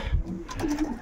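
Young pigeons in a pigeon loft give a short, soft, low coo lasting about a second, close to the microphone and heard on its own.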